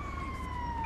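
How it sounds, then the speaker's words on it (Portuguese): An ambulance siren wails in GTA V. A steady, fairly faint tone glides slowly downward for a brief moment, with no talking. "Isso é as ambulâncias aqui, ó."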